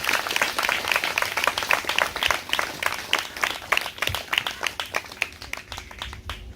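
A church congregation claps together in thanksgiving during worship, a dense, fairly loud stretch of rapid handclaps that thins and fades slightly toward the end.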